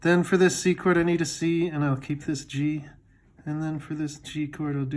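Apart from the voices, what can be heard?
No everyday noises stand out.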